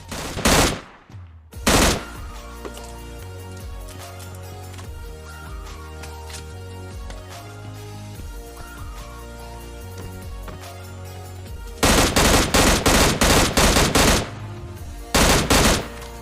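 Gunfire in the mobile game PUBG Mobile Lite: loud close single shots early on, then rapid automatic bursts near the end over a steady background of game music and ambience, with no voices.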